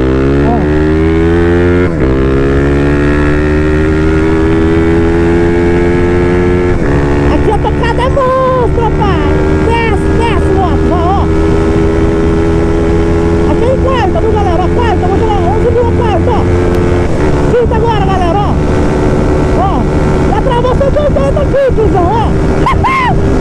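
A Honda CB 300 motorcycle engine screams loud and close, revving high through successive gears at top speed, pitch climbing then dropping at each shift, steady drone throughout with a voice speaking over it.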